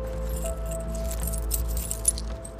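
Apartment keys jangle as they are handed over: a light metallic rattling with a bright clink, heard close over a low steady background hum.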